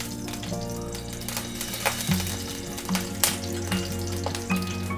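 Oil heating and sizzling in a kadai for soyabean curry, a steady crackling hiss with scattered pops and light clicks, close and moderately loud.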